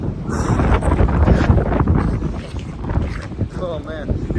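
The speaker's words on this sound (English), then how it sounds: "Oh man, it is windy." Strong wind buffets the microphone outdoors, producing heavy low rumbling gusts that run continuously. Faint speech and other sounds sit underneath.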